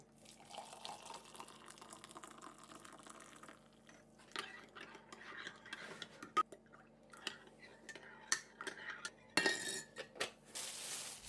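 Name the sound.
making coffee, spoon stirring and clinking in cup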